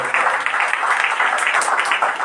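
A church congregation at a foundation day service in Nashik applauding loudly, a steady wash of many hands clapping close and continuous.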